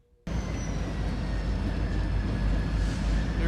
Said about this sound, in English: There goes the train. It just started up.